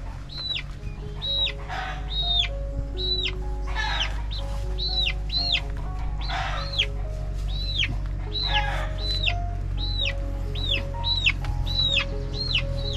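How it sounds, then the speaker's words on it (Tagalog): A chicken clucks in a steady series of short, repeated calls close by, with a constant low hum of background noise running underneath. "Ang amo ng kanyang manok."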